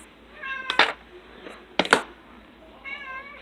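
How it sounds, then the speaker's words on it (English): A house cat meows twice, then again more softly, with clear harmonic cries separated by short pauses against a quiet indoor background. "And you can hear my cat."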